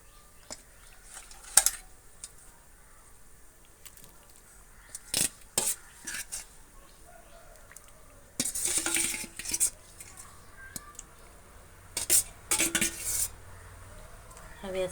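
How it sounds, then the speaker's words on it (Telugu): Fish pieces go into a pot of simmering Telugu-style fish curry (pulusu), with clinks of utensils against the pot and brief stirring clatters in separate bursts over a quiet background. "పులుసు ఉడకబడుతుంది. అదైతే మనం చేపలను వేసుకుందాం."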